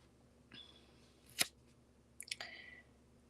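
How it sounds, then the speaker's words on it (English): Small scissors snip thread ends during jewelry making, giving a few quiet, sharp close-up clicks: one near the start, one louder, then a quick cluster of snips. "I'm going to trim my ends"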